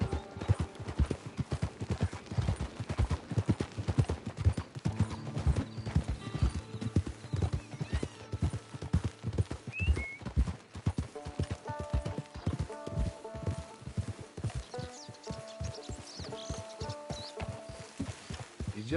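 Horse hooves clip-clop steadily in the Red Dead Redemption 2 video game, a close, regular trotting rhythm with an occasional whinny, and music sitting faintly beneath.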